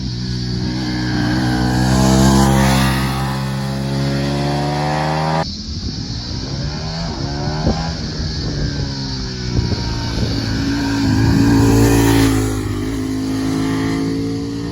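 Ducati Panigale V4 S sportbike accelerating hard on the road, its engine note rising through the gears with a shift break midway, loud and close with no talking.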